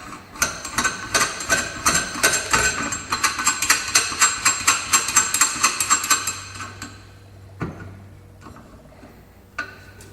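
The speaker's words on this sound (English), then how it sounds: "And you just tighten this collar down on there." A collar on an EPI clutch kit for an Arctic Cat or Suzuki is tightened with a rapid series of sharp metallic clicks, like a ratchet, close and steady for about six seconds, followed by a couple of isolated clanks.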